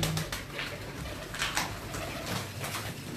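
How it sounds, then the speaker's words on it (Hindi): Pigeons cooing on a rooftop in Multan, soft repeated coos rising and fading over a low background hum, moderately distant and fairly faint. "हाँ डैडी कबूतर है"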